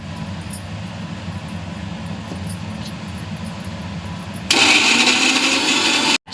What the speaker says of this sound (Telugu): పచ్చగానే గ్రైండ్ చేసుకోండి.